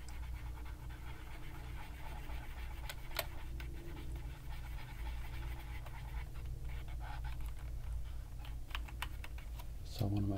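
Quiet scrubbing and tapping on an old Mac computer keyboard during cleaning, soft scratchy strokes and faint key clicks over low background hum, with one sharper knock near the end.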